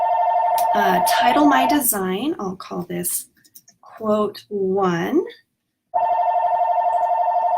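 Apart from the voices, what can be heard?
telephone ringing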